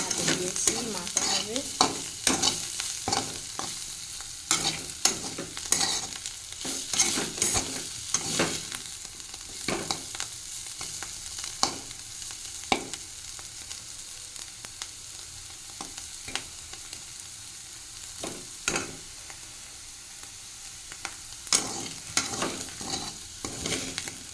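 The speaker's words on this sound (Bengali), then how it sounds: "এই যে এখানে উচ্চ আলু ভাজা হচ্ছে" Potatoes frying in a pan with frequent spatula scrapes and clacks over a low continuous sizzle, a rhythmic run of stirring strokes throughout at moderate volume.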